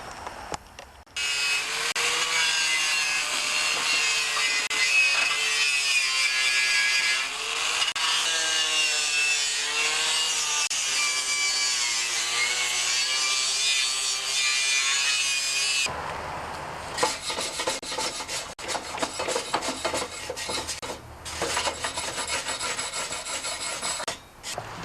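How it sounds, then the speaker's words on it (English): Sandpaper rubs rapidly back and forth over old paint on a John Deere 316 tractor deck, a close, loud, raspy scraping that runs continuously before shifting to shorter, choppier strokes. "I'm going to feather it in with sandpaper by sanding this paint here"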